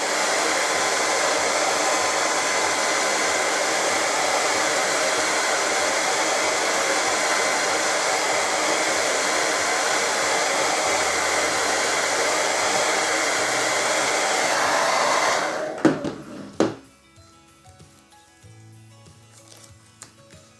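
Heat tool blasting hot air onto acrylic paint to soften and lift it, a loud continuous whooshing roar held for about fifteen seconds before it cuts off abruptly, leaving faint clicks and handling sounds.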